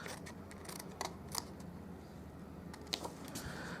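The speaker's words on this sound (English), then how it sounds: "So I'll just freehand cut it with my scissors." Scissors cut paper freehand while a Christmas papercraft gift is being made. A few quiet, crisp snips come at irregular intervals over a soft, steady background.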